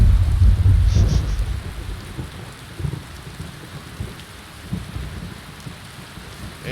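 Rain and thunder from a video game storm: a low rumble of thunder rolls up at the start, then steady rain hisses on alone with faint distant rumbles.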